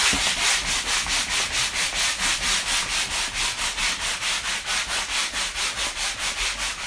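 A Nappa model figure from Dragon Ball Z is being sanded by hand. Rhythmic back-and-forth rasping strokes repeat evenly, close and fairly loud, with no voices.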